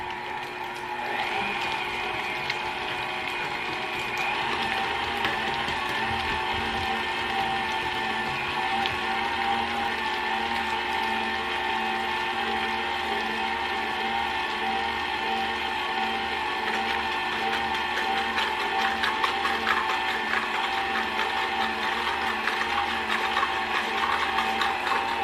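Electric mixer creaming butter, cream cheese and sugar in a mixing bowl for a lemon cream cheese pound cake, a steady close whirring drone that runs unbroken throughout with no talk.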